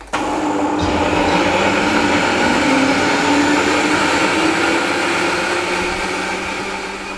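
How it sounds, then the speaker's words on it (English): A blender whirs continuously, purees cooked carrot and coriander soup into a smooth mix, with a loud, steady motor roar that dips slightly in pitch near the start and eases off toward the end. "slam this in the blender. Just whiz that till it's smooth"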